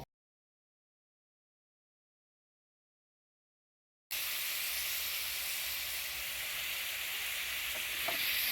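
Spice paste sizzling and frying steadily in a hot pan for a Bengali dudh korola (bitter gourd) curry cooked with cinnamon and cardamom, a loud continuous hiss that starts abruptly after silence, with occasional light stirring.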